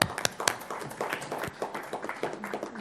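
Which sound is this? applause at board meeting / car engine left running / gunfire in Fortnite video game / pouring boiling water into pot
applause at board meeting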